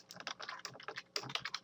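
Quick, close keystrokes on a computer keyboard while code is typed, an irregular burst of light clicks for under two seconds, no speech.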